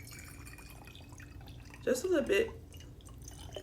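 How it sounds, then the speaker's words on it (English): Purified room-temperature water is poured through a funnel into a glass container, giving a short burst of trickling and splashing under quiet conditions, with someone speaking briefly. "I have my purified room temperature water, and I would just pour in"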